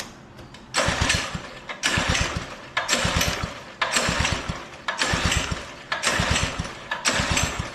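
A discontinued Doodle Bug DB30 minibike engine, running without choke and given a little gas, surges and sags in roughly once-a-second bursts of throttle. It sounds close and rough, with no talk.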